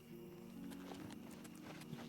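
Horse hooves clopping in the video game Oblivion Remastered, a faint, quick series of light clip-clops over a steady background hum.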